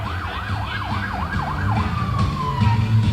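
A wailing emergency vehicle siren sweeps up and down in steady cycles during a July 4th parade in Plattsburgh, then shifts to a long falling tone over a rumbling engine and crowd noise.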